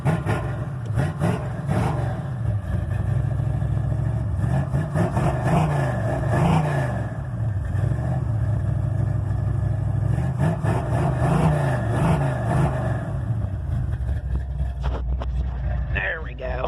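A 1986 Monte Carlo SS with a 383 engine and reworked exhaust, cold started, rumbles steadily at idle up close, its deep note swelling and falling through several blips of the throttle before settling back to a loud, even burble.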